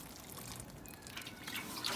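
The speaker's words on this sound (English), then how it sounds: "I'm going to water. That's super important to water immediately" Seedlings freshly divided from a six-pack are watered gently, giving a soft, steady trickle and patter of water running into the cells, fairly close and alone with no talk.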